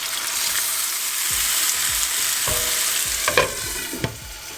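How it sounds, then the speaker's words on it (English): Potato slices frying in a pan for a Gujarati dry curry, a steady close sizzle with a few soft knocks and spatula touches toward the end. "I'm going to add my potato slices just like I did with the aubergine slices"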